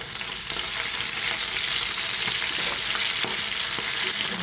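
Chopped green chillies and curry leaves sizzle and crackle steadily in a hot pan while stirred, a dense continuous frying hiss with small clicks, fairly quiet and alone.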